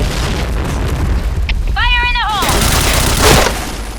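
A loud, booming explosion in the video game Point Blank with rumbling gunfire-like bursts, set against a steady noisy background.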